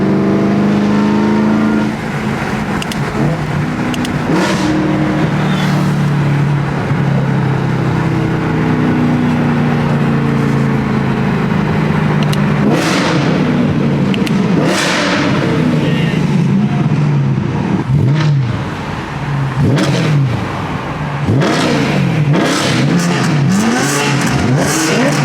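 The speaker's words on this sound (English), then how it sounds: "We're all just revving it." Several car engines revving at a busy car meet, rising and falling in loud throaty bursts, with people talking in the background.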